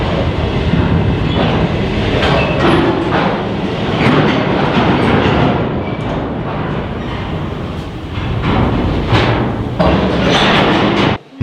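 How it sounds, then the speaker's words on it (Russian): Steady rumbling clatter of electric mine locomotives rolling through an underground depot 205 metres deep, with rhythmic clacks and metallic thumps, loud and continuous throughout. "Далее мы попадаем в электровозное депо."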